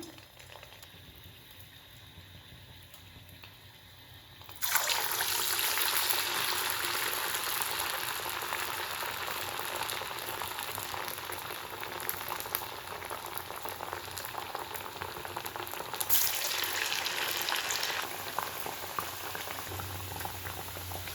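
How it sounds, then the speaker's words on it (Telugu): Semolina (Bombay rava) vadas dropped into hot oil, which bursts into loud, steady bubbling and sizzling after a quieter start and holds close and continuous, swelling once more as more batter goes in. "ఆయిల్ కాగిందో లేదో చిన్నది చూస్తాను. కాగింది, వడలు వేసుకుందాం."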